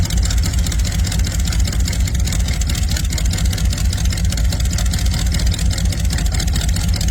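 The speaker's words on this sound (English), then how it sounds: "This 1926 Model T Roadster is a custom hot rod built for show and go, powered by a 350 cubic inch Chevy L28 Corvette engine" A 1926 Ford Model T Roadster hot rod with a 350 cubic inch Chevy Corvette V8 runs steadily nearby, a loud, constant throbbing engine drone without speech.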